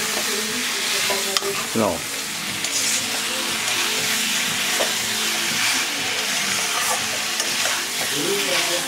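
Chicken curry meat sizzles and fries in a pan, a constant crackling hiss with the scrape of a spoon stirring now and then, and a brief spoken word over it.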